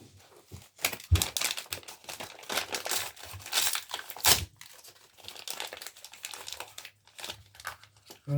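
Paper and cardboard of an advent calendar box crinkle, rustle and tear in irregular bursts, close and fairly quiet, with no talking over them.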